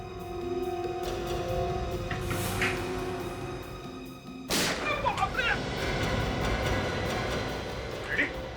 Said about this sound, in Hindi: गलती से गोली चल गई